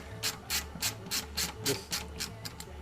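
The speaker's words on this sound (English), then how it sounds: "Then run all the screws down until they snug." Screws being run down into the throttle plate of a Holley 650 carburetor during assembly, giving a series of about ten short, evenly spaced raspy turns over a low steady hum, fairly quiet and close.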